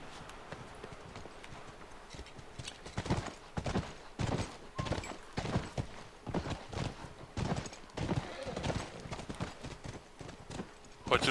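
Horses walk at a farmhouse in The Last of Us on PS3, their hooves clip-clopping in a steady irregular rhythm at moderate distance, fairly quiet, with occasional faint sounds between the steps.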